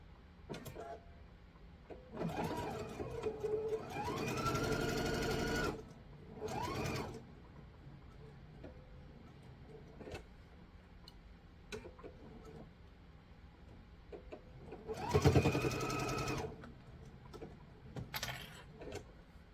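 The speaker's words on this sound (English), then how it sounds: "I'm going to sew from the very top to the very bottom my 1/4 inch." A sewing machine stitches a quarter-inch seam on a sampler quilt block in a few bursts of fast whirring, with quiet clicks and handling noises in the pauses between.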